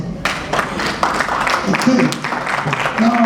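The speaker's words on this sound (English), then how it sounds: "Give him another round of applause." An audience applauding a speaker at a panel session on big tech and multinational organisations in Nigeria, a brief spread of clapping that is mostly buried under loud talk and chatter from the room.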